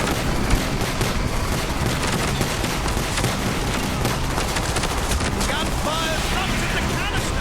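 Dense gunfire rattles without pause in the 2010 video game Call of Duty: Black Ops, loud and chaotic, with shouted voices mixed into the firefight.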